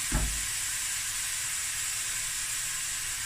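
Cut-up danya sausage sizzles in olive oil in a pot, a steady close frying hiss that runs unbroken after a brief low thump at the start.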